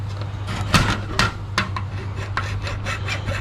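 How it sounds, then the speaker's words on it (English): A hand file rasps back and forth over gold-plated circuit-board fingers in close, scratchy strokes of about one per half second, with a low steady hum underneath. "once you file the most of it away and get most of the dirt off"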